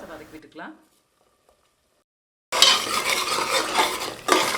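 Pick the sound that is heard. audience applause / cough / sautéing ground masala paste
sautéing ground masala paste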